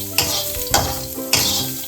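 Boiled peanuts with green chillies and curry leaves sizzle and fry loudly in a pan, with three scraping stirs spaced roughly half a second apart over the continuous crackle.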